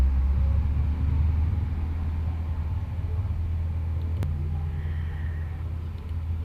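Trucks passing on an outside road give a continuous deep rumble of engines and traffic that slowly fades a little over several seconds, with no speech over it.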